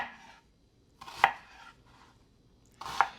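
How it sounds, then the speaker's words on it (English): A knife roughly chops an onion for Southern soup beans, with two sharp, close chopping strikes about two seconds apart and faint softer knife contact sounds between them. "I'm going to do a rough chop on this onion."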